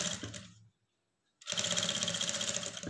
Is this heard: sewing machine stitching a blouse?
yes